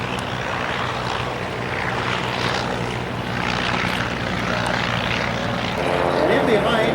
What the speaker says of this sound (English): this is the original A model of the Trojan, with a 600 horsepower engine